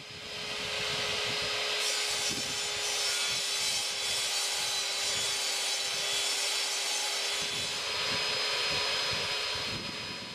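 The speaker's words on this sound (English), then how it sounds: "Because I'm standing to the side so I can be nearer the table saw, I can't sight down the line of cut." A table saw rips through plywood with a loud, continuous high whine and a steady hum, the bite of the blade roughening the sound through the middle of the cut before it eases near the end.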